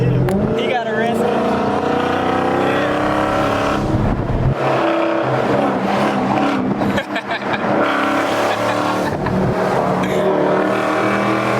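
A loud Dodge Scat Pack engine is heard from inside the car while driving, a continuous deep, roaring rumble with surging revs, as people talk over it.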